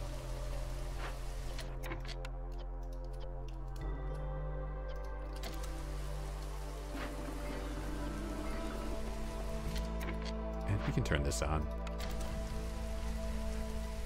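Light drizzle falling in Against the Storm, a steady soft patter of rain running without a break under a low game hum, while a person talks briefly over it.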